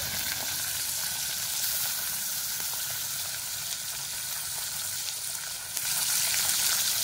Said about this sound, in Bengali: এবার মাছগুলো ভেজে নেব। মাছগুলো দেবো, বেশি ভাজবো না, অল্প করে ভেজে নেব